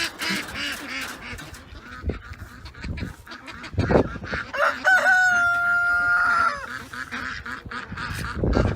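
Free-range farm chickens cluck and squawk in bursts, then a rooster gives one loud, clear crow at close range, with other fowl calling faintly around it.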